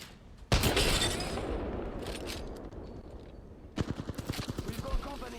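Bursts of gunfire in the video game Apex Legends, a loud sustained volley at the start that trails off, then a rapid rhythmic string of close shots near the end, with a voice speaking in between.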